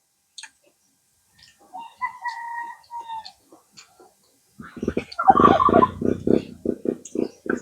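Turkeys gobble in a rapid, warbling burst nearby after scattered softer calls and clucks, with a voice briefly audible.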